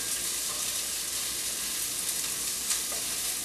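Turkey chili with onions sizzling in a pot as a wooden spoon stirs it around and around, a steady close frying hiss with soft scraping throughout and no talk.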